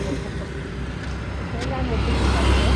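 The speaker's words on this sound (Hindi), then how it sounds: "गाड़ी आ रही है बार बार।" Vehicles pass again and again along a busy roadside in India: a steady traffic rumble swells as one draws near at the end, with people talking over it.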